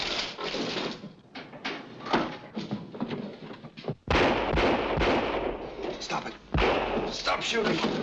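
Gunshots in a 1940 film scene: a dense run of shots and bangs over about eight seconds, with voices talking throughout and two heavy slamming impacts partway through.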